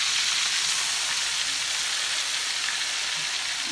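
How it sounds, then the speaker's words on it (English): Shrimp dropped into preheated hot grease sizzle and fry, a steady dense crackling hiss that runs loud and unbroken throughout with no talking. "I have my shrimp that I'm going to drop up in this grease back here that I had preheating and cooking"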